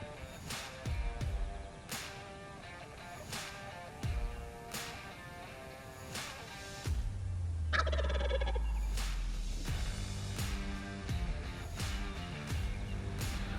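Wild turkeys gobble from timber across a field, several brief bursts rising at intervals over a low, steady outdoor background with no talking.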